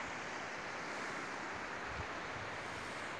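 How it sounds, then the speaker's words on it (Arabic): Water flowing into the Black Sea near Trabzon, a steady broadband rush of surf and flowing water with some wind noise on the microphone, continuous and unbroken throughout. "هذه المياه تصب البحر مثل ما احنا شايفين، البحر الأسود"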